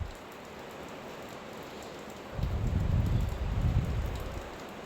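Heavy rain heard from inside a house hisses steadily on surfaces, then a deeper roaring downpour swells in partway through, loud and continuous.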